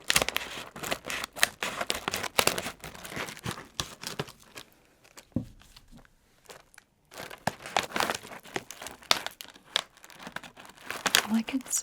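Crinkly candy packaging snipped and crumpled with scissors in a series of sharp, close crackles and rustles, a quieter pause midway, then more crinkling, with soft talk in between.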